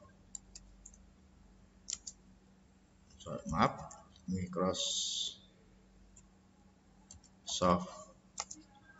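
A computer keyboard is typed on during a twelfth-grade information technology lesson about Microsoft Office, with scattered short clicks in small bursts, fairly close, mixed with a teacher's speech.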